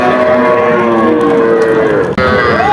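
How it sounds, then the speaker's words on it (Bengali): A cow lows loudly and close at a busy village cattle market, a long drawn moo followed by a second rising call after a brief break, with crowd noise beneath. "গাভীর সাথে বাছুর আপনারা দেখতে পাচ্ছেন বন্ধুরা"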